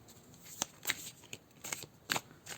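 A large Tao oracle card drawn from the deck, heard as a run of soft card-shuffling rustles and sharp flicks, close and quiet, with no voices.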